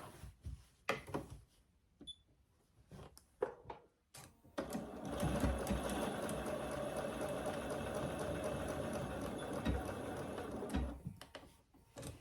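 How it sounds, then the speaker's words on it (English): A sewing machine stitches a short row through fabric, joining the raw edges of a ruffle on a pillow; the steady mechanical whir runs for several seconds after a few light clicks and handling noises, close and fairly quiet. "I will just put a little row of stitching here so that those don't come apart."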